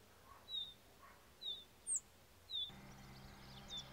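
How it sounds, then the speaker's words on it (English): A blue rock thrush sings on a coastal mountain, its short, faint chirping phrases coming every second or so and sounding distant over quiet background hiss. "The blue rock thrush has a distinctive song"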